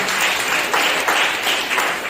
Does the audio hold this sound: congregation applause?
yes